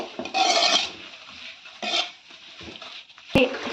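Pulses stirred and frying in a pan for basaru: bursts of scraping and rasping from a spatula against the pan, separated by quieter gaps, ending in a sharp clink.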